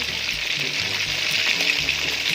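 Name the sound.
fish frying in oil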